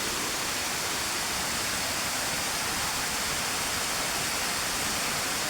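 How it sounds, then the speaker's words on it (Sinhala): Drained water pouring steadily out of an outlet, a continuous broad rushing hiss with no pauses, moderately loud and close, with no voices. "මේකෙන් තමයි වතුර එන්නේ මේ ඉවත් වෙන වතුර ටික"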